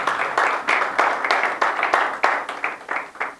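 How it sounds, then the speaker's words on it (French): Church congregation applauding together, a dense steady clatter of many hands with rhythmic swells, close and fairly loud, no talk over it. "Acclamons pour lui."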